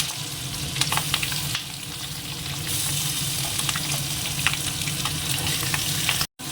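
Fish sizzle and fry steadily in a pan with oil, a continuous crackling hiss with occasional stirring clatters and light water sounds, close up and with no talking.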